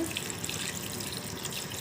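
Water, about one and a half small glasses, pours into a cooking pot in a steady, continuous rush, a close hissing splash with no breaks or voices.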